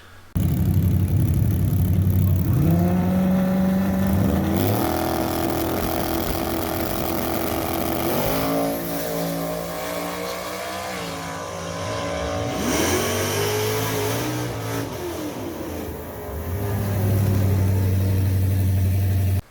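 A drag race car makes a qualifying pass, its engine loud and close, revving through several rising gear pulls and staying strong to the end with no talk over it.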